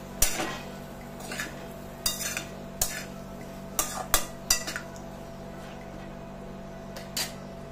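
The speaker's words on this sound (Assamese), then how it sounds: "গোটেইখিনি চব্জি ভালদৰে লৰাই দিছোঁ" Vegetables stirred in a cooking pot with salt and turmeric powder, a metal spoon scraping and clinking against the pot in about ten short separate strokes over a faint steady hum, with no talk.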